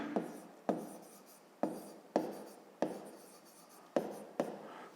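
Pen or chalk writing out a math formula for a fifth-grade problem, six distinct strokes or lines, each starting with a tap and trailing off in a soft scratch, close and quiet, no speech.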